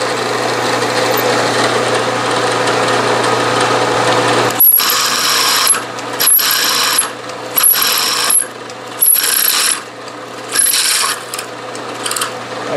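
A Bridgeport milling machine drones steadily, then a larger drill bit bites in with repeated high, harsh grinding bursts, about six cuts separated by short pauses.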